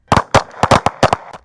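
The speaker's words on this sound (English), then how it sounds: "another fade to black after at least 15 gunshots" Rapid gunfire from a police shooting in a park, captured on an officer's body camera: about eight sharp, loud shots in quick uneven succession over a second and a half, with no talking between them.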